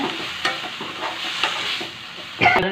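Ground coconut masala paste stirred in a hot pan, a soft continuous sizzle broken by a few light scrapes and a louder clatter near the end.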